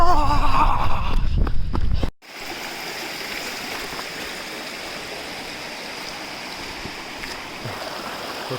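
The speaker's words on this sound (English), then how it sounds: "The river's growing as we go down. It just gets louder and louder." River water rushing steadily along a creek trail toward a waterfall, a loud, continuous broadband roar after a brief louder burst at the start.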